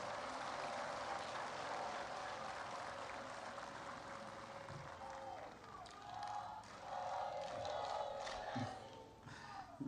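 A crowd at the Kwita Izina gorilla naming ceremony in Rwanda's Northern Province breaks into applause and high ululation to welcome guests, a dense mid-distance roar with a voice faintly audible beneath it.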